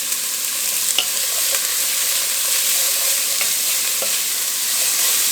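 Chopped carrots and onion soften in a pan over medium-low heat for shepherd's pie, giving a steady, even sizzle broken by a few soft clicks and scrapes of stirring.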